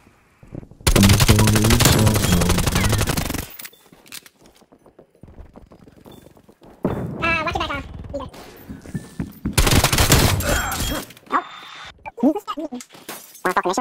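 Gunfire in a first-person shooter video game: loud, dense bursts of rapid automatic fire in two long stretches, with scattered single shots and game effects between them.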